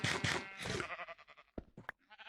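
Sheep in a Minecraft GregTech modpack game bleat several times in quick succession, loud and close, the short wavering calls following one another with brief gaps.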